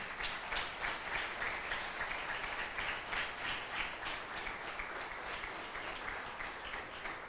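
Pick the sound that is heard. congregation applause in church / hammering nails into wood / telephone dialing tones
congregation applause in church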